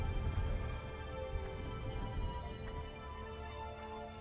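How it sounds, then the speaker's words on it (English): Steady rain falls in a video game, a continuous soft hiss with a low rumbling undertone, even and unbroken throughout with no voices. "The rain stops as soon as we're finished walking in it."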